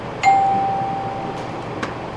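A single electronic doorbell ding rings out clearly, then decays, followed by faint clicks in a quiet room.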